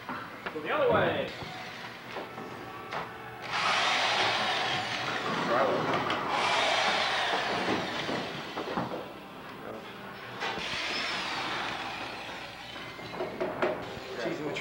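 Loud bursts of a power drill whirring in stretches, interrupted by pauses, with people talking nearby throughout.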